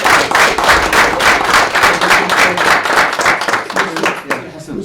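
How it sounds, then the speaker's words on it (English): Applause at a city council meeting, a room of people clapping steadily and fairly loud, tapering off at the end. "Please, can we get first, get an applause for Alex for the past,"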